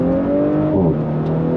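An Audi B9 S4 accelerating through the gears during an intercooler performance run, its engine droning loud and close with a steady rising tone that dips at a gear change before climbing again.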